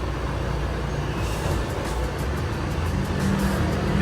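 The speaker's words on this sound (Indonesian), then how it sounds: "Bis yang kita naiki guys." Rosalia Indah intercity bus carrying passengers on a road near Cikarang, a steady loud engine and road rumble with brief airy hisses in the middle and no talking.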